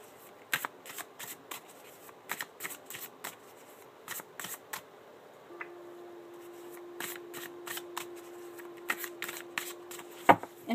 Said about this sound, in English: I'm going to shuffle the cards for you.